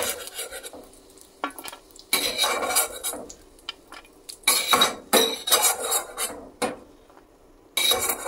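A metal ladle scrapes and clatters in a kadai as fried raisins are lifted out onto a plate, with repeated close rasping strokes and clinks in uneven bursts separated by short pauses, and no speech.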